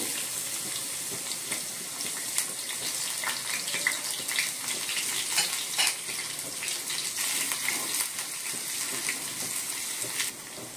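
Garlic sizzling in about three spoons of hot oil for a Telugu onion dal tempering, a steady loud crackling hiss with bursts of spattering throughout, no talking.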